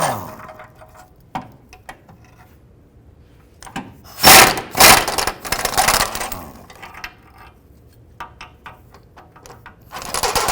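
A ratchet and tools work on the driveshaft bolts of a 2005-10 Jeep Grand Cherokee, giving scattered metallic clicks and clanks, with a few louder close bursts of ratcheting and rattling between quieter moments.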